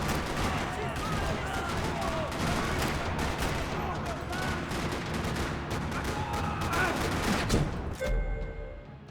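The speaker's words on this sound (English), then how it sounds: "Another parking lot rattling with gunfire." Rapid gunfire rattles through a parking lot shootout in the video game Max Payne 3, with dense overlapping bursts and shots filling the scene almost continuously before cutting off abruptly near the end.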